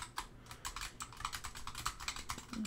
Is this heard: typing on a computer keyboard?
yes